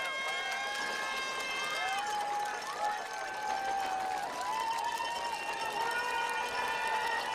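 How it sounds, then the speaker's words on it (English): Spectators cheering at a high school boys' ultimate frisbee national semifinal, a continuous roar of voices with whoops and rising calls over a busy crowd murmur, steady and fairly close. "So the crowd picking up."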